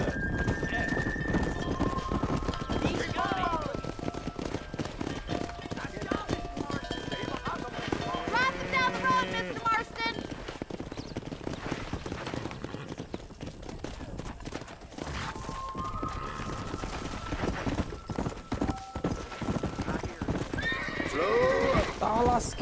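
A horse gallops in Red Dead Redemption with steady, loud hoofbeats, and repeated neighs cut through. People talk over it throughout.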